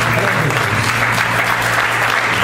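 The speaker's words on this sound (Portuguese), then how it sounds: "levante as mãos para os céus e dê a melhor salva de palmas que você quiser" A church youth service audience claps in a loud, continuous wash of applause, with a low hum underneath and no clear talk over it.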